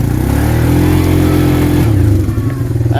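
2008 Arctic Cat 366 ATV engine revving on a wooded trail, a close mid-pitched motor climbing and holding, then dropping and rising again as the throttle changes.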